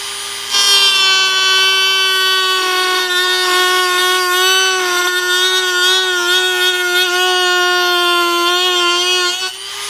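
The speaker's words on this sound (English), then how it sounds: "I get my Dremel tool and my safety goggles" A Dremel rotary tool cuts into the thin wood of a cigar box, a loud, sustained high-pitched whine with wavering harmonics that runs nearly ten seconds without a break.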